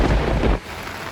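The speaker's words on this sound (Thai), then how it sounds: "สายฝนก็จะโปรยปลายเย็นฉ่ำอย่างนี้อยู่ตลอดเวลานะครับ" Rain falls on a durian orchard in Chanthaburi during the rainy season, a dense broadband hiss that is loud for half a second and then drops to a softer, steady patter.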